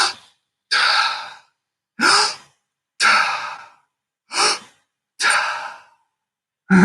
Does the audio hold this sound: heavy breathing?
yes